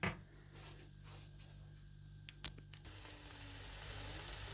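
A soft, steady frying hiss that grows fuller partway through, with a few sharp clicks and a low hum underneath.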